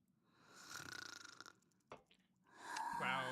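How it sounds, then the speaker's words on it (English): A character in the video game Honkai Star Rail snores in a rasping, rhythmic rattle, fairly quiet and close, followed by a short snort and breathy sounds before another voice comes in. "Wow, that snoring noise."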